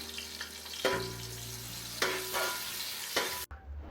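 Green chilies and onions frying for Muslim-style mutton tahari are stirred in a pan, with a steady close sizzle broken by three scraping stir strokes, ending abruptly.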